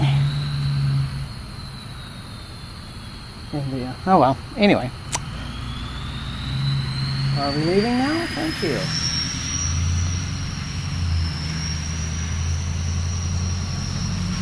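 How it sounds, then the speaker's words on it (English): Some distance away, a vehicle idles a few houses down with a steady low drone and a faint rising whine. Indoor voices talk briefly over it. "there's some kind of very obnoxious vehicle a few houses down that is idling"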